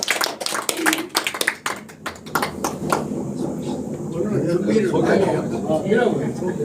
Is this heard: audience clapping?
yes